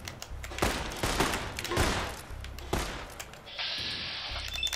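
Gunfire in the Fallout New Vegas video game, several loud bursts of shots in quick succession, separated by brief pauses, then a steady high electronic tone near the end.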